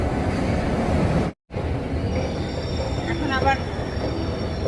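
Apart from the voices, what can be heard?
London Underground District line train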